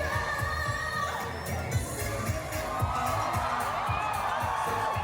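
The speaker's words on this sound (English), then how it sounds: "see, you can hear the crowd. They were just going for it." A concert crowd at Eurovision on Tour, cheering and shouting loudly and continuously beneath amplified music, a dense, lively roar.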